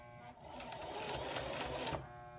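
A sewing machine stitching in a steady, fast mechanical rattle for about two seconds, heard close and fairly quiet over a low background hum.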